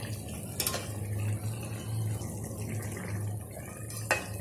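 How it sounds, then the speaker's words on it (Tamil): Mutton kaima balls being stirred in a cooking pot, with soft scraping and a few sharp clinks of a utensil against the metal rim over a steady low simmering bubble, close and moderately loud. "இப்போ இந்த ஸ்டேஜில் வந்து ஒரு கலக்கு கலக்கி விட்டுக்கோங்க."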